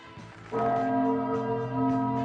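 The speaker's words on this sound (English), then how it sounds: "it's chime time" Clock chime bells ring out loud and clear after a quieter lead-in, their sustained tones hanging and blending with no voices over them.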